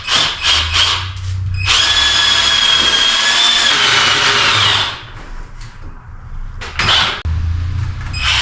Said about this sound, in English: So I'm using deck screws because they're exterior rated. We're gonna drive these.